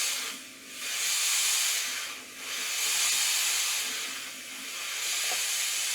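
A Vax steamer releasing steam in three long hissing bursts each time its trigger is pressed, with short dips between them, close and loud with no talking.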